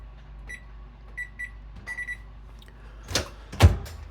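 A bread oven's control panel gives a series of short, high electronic beeps, single and in quick pairs, in a quiet kitchen. A couple of sharp clunks follow near the end.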